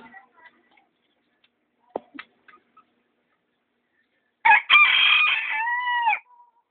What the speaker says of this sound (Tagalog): Malapit na may itlog. Manok na bantam.